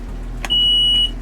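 Sharp key click followed by a sustained high-pitched warning tone from a small boat's dashboard alarm as the ignition of a MerCruiser engine is switched on, loud and close over a steady low background hum.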